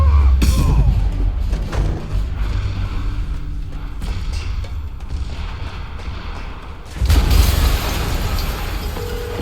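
Explosions in the video game Marvel's Spider-Man Remastered: a deep, heavy boom opens, rumbling debris noise follows, and a second loud low blast hits near the end.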